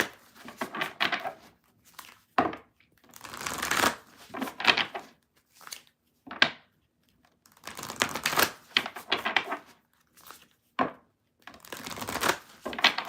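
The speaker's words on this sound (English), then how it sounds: "I'm going to shuffle and read the chat" Tarot cards being shuffled by hand in bursts of riffling and rustling, with short quiet gaps between rounds, close and moderately loud with no talking.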